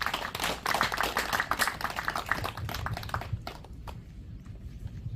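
Audience applause welcomes a speaker at a Constitution Day commemoration held at a historic Seoul house. The clapping is moderate and fairly thin, with individual claps audible, and it thins out and fades over the last second or two.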